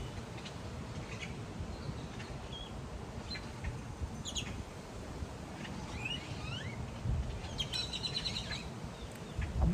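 Scattered bird chirps and short calls ring out over a steady low outdoor rumble, several birds calling on and off at a moderate distance.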